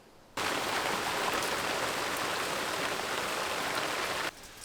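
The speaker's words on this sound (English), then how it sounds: "quick downpour there" Heavy rain pours down in a steady, dense hiss that starts abruptly, holds for several seconds, then cuts off.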